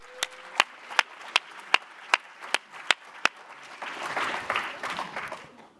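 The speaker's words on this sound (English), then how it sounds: "Let's give them all a huge round of applause." Audience applause at a panel event on the future of work in Vancouver: about nine sharp, evenly spaced claps ring out first, then a fuller wash of clapping from the crowd swells up near the end.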